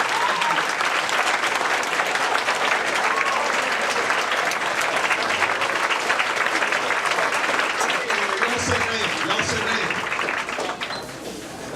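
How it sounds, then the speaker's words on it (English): An audience at the United Technical Center in Clarksburg welcomes West Virginia Governor Jim Justice with sustained, loud applause from a large crowd, a dense roar of clapping that holds steady for about ten seconds before tapering off, with faint voices mixed in. "Please give him a round of applause."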